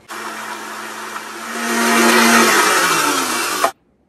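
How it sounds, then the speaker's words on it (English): A countertop blender whirs steadily as it blends an apple pie protein smoothie with vanilla soy milk, its motor rising in pitch partway through before cutting off abruptly. "Then we're just gonna blend it up in our blender."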